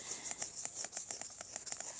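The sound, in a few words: acid rain falling in the video game Worldbox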